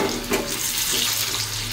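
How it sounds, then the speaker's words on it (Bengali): New potatoes frying in a pan, a dense, even hiss of hot oil close by with slight scraping, heard alone without talk. "তো এখানে আলুগুলো ভাজি"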